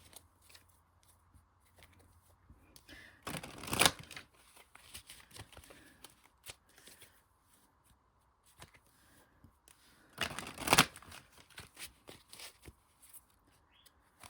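Tarot cards being shuffled in two quick bursts, at about four and ten seconds, each a short riffle of papery flicks. Faint handling rustles fall between them, and no one speaks.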